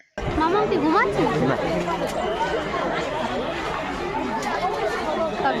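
Busy crowd babble at Alipore zoo in Kolkata on New Year's Day, a continuous wash of many nearby voices talking over one another at a steady, loud level.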